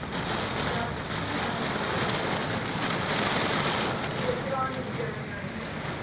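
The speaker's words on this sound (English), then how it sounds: "You think it's raining hard?" Heavy rain pounds a car during high winds near Breslau, Ontario, making a dense, constant roaring hiss on the body and glass that stays loud and even throughout.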